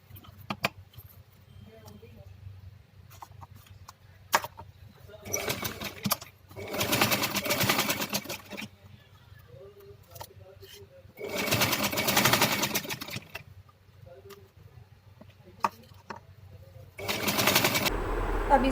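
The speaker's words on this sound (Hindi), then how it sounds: "इसके कॉर्नर से हल्का नीचे ही मैं स्टिच कर रही हूँ" A sewing machine stitches cancan petticoat fabric in several bursts of rapid whirring, close and loud, separated by quieter handling sounds with someone talking between them.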